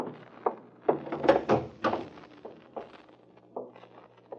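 A back door opening in a radio drama: a string of knocks, thunks and latch clatter, each short and close, spaced irregularly over a few seconds, with no talk.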